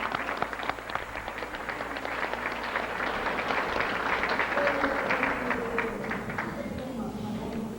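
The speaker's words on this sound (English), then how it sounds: "I think we all owe them a round of applause." Applause from a dinner audience in a banquet room, many hands clapping steadily and at moderate volume, with voices murmuring underneath.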